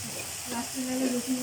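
Garlic frying in a pan for curry leaves chicken gives a soft, steady sizzle over a moment, with a faint humming tone.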